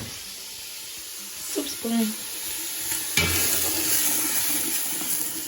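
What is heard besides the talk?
garlic and onion cooking in pot for chicken tortilla soup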